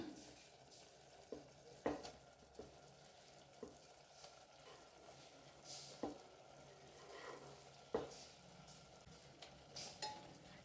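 Fenugreek leaves stirred into pilaf masala frying in a pan: a soft continuous sizzle with a spoon scraping and tapping the pan every second or two, quiet and close.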